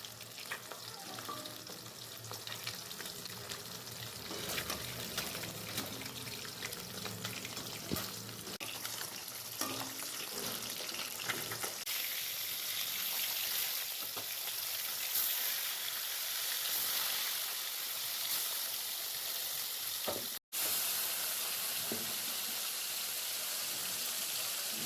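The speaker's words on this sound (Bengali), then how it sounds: "চলো আগে মাছগুলো খুব ভালো করে ভেজে নেওয়া যাক।" Pieces of rohu fish fry in hot oil in a pan, a steady, dense sizzle that runs without a break for about twenty-five seconds, cutting out for a split second near the end.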